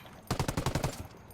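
Light machine gun fire in Ghost Recon Wildlands: a sustained burst of about eight sharp, evenly spaced shots lasting roughly a second, loud and close, with no talking over it.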